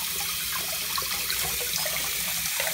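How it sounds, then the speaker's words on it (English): Hot water runs steadily from a tap into a toy car's container, a continuous close splashing rush with no talk over it. "First you have to fill it up with hot water."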